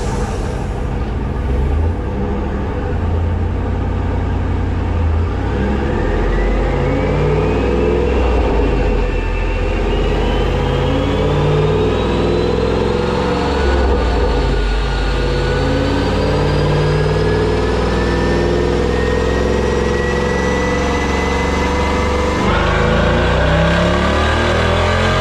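A 1999 Corvette with a manual six-speed is on a dyno, its engine droning loud and continuous through a long pull as the pitch rises steadily and then drops off near the end.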